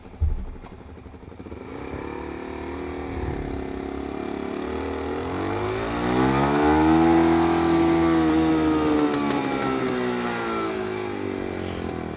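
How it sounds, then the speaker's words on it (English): Motorcycle exhaust captured close-up with a Sennheiser 421 microphone and heard on its own: a thick, burbling idle swells into revs that rise and fall in a smooth arc before settling back, fairly near and steady. "here's the exhaust soloed by itself"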